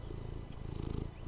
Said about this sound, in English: Is there something you wanted, kitty cat?